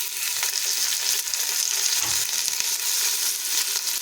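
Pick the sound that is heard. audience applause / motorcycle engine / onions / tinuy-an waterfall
onions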